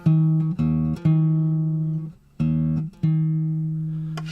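A single low string plucked repeatedly, alternating between the open note and the note an octave above when played at its halfway point, each ringing out and fading.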